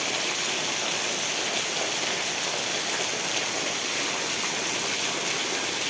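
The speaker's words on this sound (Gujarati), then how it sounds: "કેટલો વરસાદ પડે જોવો તો ખરા" Heavy Saturday-morning rain pours down in Vejal village, Ranpur taluka, Botad district, Gujarat, as a dense, unbroken wash of loud hiss that holds level throughout with no voices.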